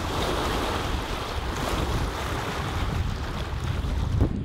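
Strong wind gusts and choppy waves slap steadily on a lake during a canoe trip as a stiff wind picks up and storm clouds roll in, with constant broadband wind noise buffeting the microphone and no speech.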